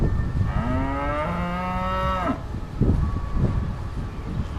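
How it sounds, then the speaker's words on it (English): A cow lets out one long, loud, close moo in the Swiss countryside, followed by thumping, rustling sounds and wind noise. "Cows."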